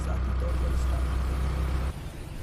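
A car engine turns over and rumbles steadily in a low, continuous drone under a narrating voice, then drops off sharply near the end as it pulls away.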